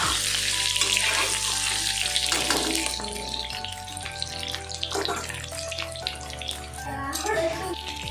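Boiled eggs fry in hot oil with turmeric, making a continuous crackling sizzle close by for the whole stretch, and someone speaks over it at times.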